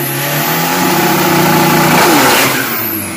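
Street drag race cars running a 402-metre strip, with a loud, close engine revving hard and climbing in pitch as the cars accelerate, then fading slightly at the end.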